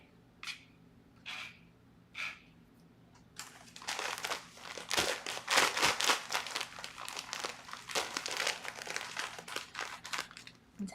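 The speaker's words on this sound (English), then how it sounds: "Resealable packaging." Resealable plastic food packaging crinkles, first in a few isolated crackles, then in a dense, continuous bout of rustling and crunching handling, close up and quiet, with no talking.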